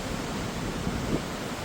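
Surf breaks on Kodi beach at Palakkunnu, Kasaragod, a steady, near wash of crashing waves with light wind buffeting, no talk over it.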